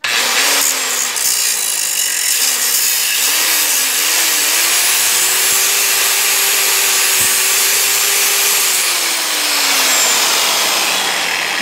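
Power tool cutting very hard metal while making a bushing for a tractor wheel, a loud continuous grinding rasp with a faint rising and falling whine, steady for the whole stretch with no voices.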